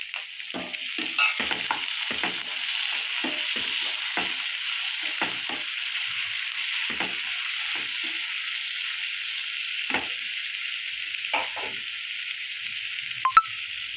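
Chopped tomatoes sizzle loudly and steadily in a hot pan for a sour-sweet Odia-style mango dish, with repeated clicks and scrapes as they are stirred; no voices.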